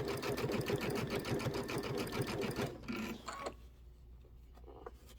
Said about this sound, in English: Start a little bit in, like a stitch or 2 in, and then back stitch